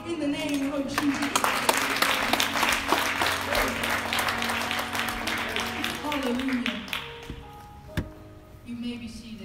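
Church congregation clapping during a Christmas service, a dense, steady wash of handclaps over music and singing voices, fading toward the end.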